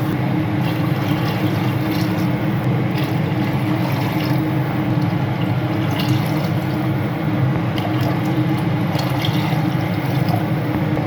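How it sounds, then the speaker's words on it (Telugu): Five glasses of water go into a pot of browned mushroom biryani rice, a continuous loud rushing, gushing pour that runs steadily with no pauses. "5 గ్లాసెస్ వాటర్ అనేది వేస్తున్నాను."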